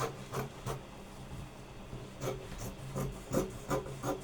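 Scissors cut through excess kimono jacket fabric in a handful of short, close snips and rustles, spaced irregularly, with no voices.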